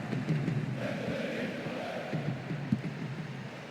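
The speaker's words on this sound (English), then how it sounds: "Crowd are roaring themselves hoarse." Stadium crowd in a PES 2009 football match, Juventus against Inter Milan in Serie A, roaring as a steady broad wash of massed voices with a brief louder swell near the end.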